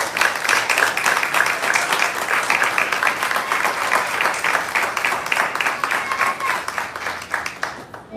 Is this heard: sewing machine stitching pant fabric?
no